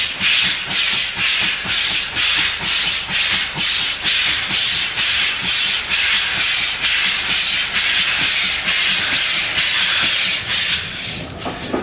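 A steam locomotive chuffs steadily, rhythmic bursts of hissing exhaust repeating fast and loud, with faint clanking of the train beneath.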